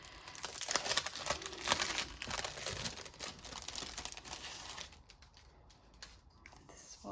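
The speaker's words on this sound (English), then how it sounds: "Okay, so we are first going to open the sticker pack." Plastic wrapping of a journaling sticker pack crinkled and torn open by hand, a close, busy run of crackling and rustling that thins out toward the end.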